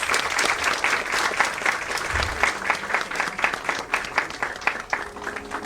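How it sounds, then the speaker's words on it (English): A crowd claps for a best outgoing student award at a silver jubilee event. The applause is sustained and moderately loud, with individual claps standing out rhythmically from the dense wash. "Please give a big round of applause."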